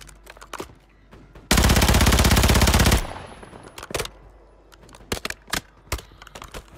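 Video game gunfire on Rebirth Island, a loud sustained burst of rapid automatic fire lasting about a second and a half, followed by scattered sharp single shots and keyboard clicks.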